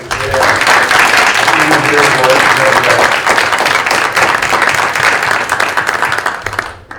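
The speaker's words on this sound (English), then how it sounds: "Can we give them a round of applause?" Sustained audience applause for adult education students at a Danbury Board of Education meeting, dense steady clapping from a sizeable crowd lasting several seconds before tapering off at the end.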